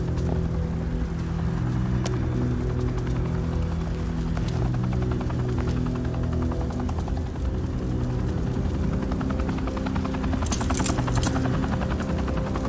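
Helicopter rotor in the video game Batman: The Enemy Within, a steady, dense beating drone that holds close and loud throughout, with faint mechanical clatter and a brief bright burst near the end.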